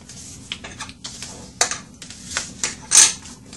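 A paper card being folded into a clutch purse, with a run of crisp creasing and pressing clicks at an uneven pace, a few louder snaps standing out close up.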